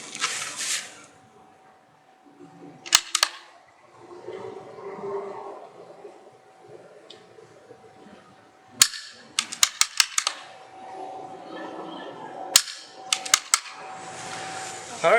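Rifle gunshots ring out during PRS precision shooting practice in a backyard, sharp loud cracks alone or in quick clusters of several, separated by quiet stretches with faint talk and background sound.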